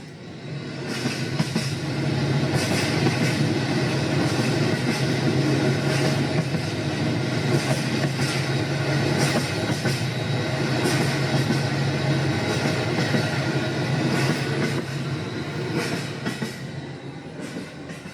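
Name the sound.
train running on rails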